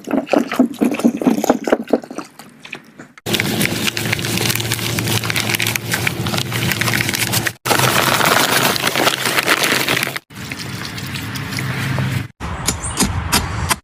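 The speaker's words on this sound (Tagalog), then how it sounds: "And now we're gonna add water." Water is added and poured into a hole around a post, a loud rushing splash broken into several bursts by abrupt cuts, with no talking over it.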